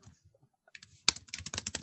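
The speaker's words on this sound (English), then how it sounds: "We can hear you typing." Quick keystrokes clatter on a computer keyboard, a few faint taps and then a brisk burst of clicky typing close to the microphone, with no talking.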